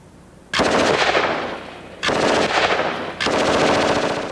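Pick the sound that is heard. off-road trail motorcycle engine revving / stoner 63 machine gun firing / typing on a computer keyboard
stoner 63 machine gun firing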